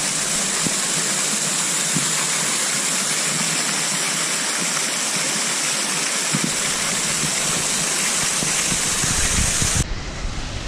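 Spruce Flats Falls rushes in a steady, full-bodied broadband roar heard from the side of the waterfall, constant and close throughout with no voices.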